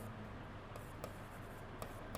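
Chalk or marker writing on a board during a maths lecture on source and sink mechanics, a few soft scratchy strokes in short bursts over a steady room hiss, with no voices.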